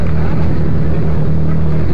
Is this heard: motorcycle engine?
yes